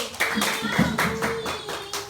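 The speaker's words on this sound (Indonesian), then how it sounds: "Beri tepuk tangan untuk kelompok 1." Applause from a primary classroom for a student group during a lesson, a short burst of quick children's claps with a few louder hits, brief and close.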